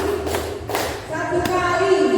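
Teachers clapping their hands on command during a group game at a school workshop, a few sharp claps spread across the moment, with a voice speaking toward the end.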